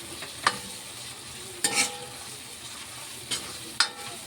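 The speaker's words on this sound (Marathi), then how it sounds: "आता बघा हे किती मस्त भाजत आलं आहे" Food roasts in an iron kadhai with a quiet steady sizzle, broken by a few sharp scraping clanks of a spatula stirring against the metal, with no voices.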